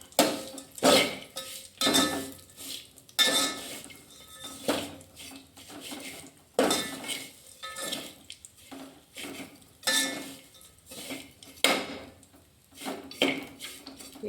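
Cashews, almonds, ajwain and coconut are dry-roasted in a pan, heard as a series of close metallic scrapes and clinks of a spatula against the pan in irregular bursts, with quiet pauses between them.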